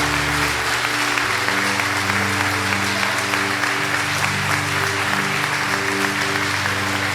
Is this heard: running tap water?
no